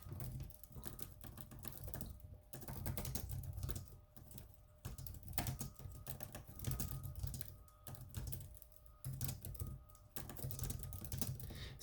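Steady typing on a computer keyboard, a continuous patter of key clicks in fast uneven bursts with brief pauses, close and moderately loud with no voice over it.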